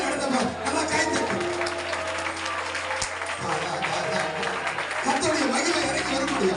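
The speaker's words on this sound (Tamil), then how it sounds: "நல்லா கைத்தட்டு." Applause from a church congregation during a Tamil worship service, steady and full through the whole stretch, with voices mixed in over the clapping.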